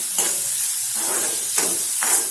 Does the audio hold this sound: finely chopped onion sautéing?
yes